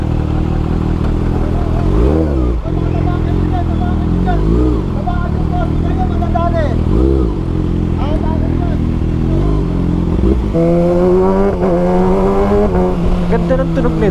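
A 2024 Kawasaki Eliminator 450 motorcycle engine runs loud and close, with a steady deep idle and several rising revs, under ongoing talk from nearby people.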